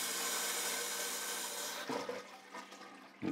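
Water gushes loudly through a toilet cistern as it runs over, a steady rushing hiss that drops off after a couple of seconds into softer gurgles and knocks.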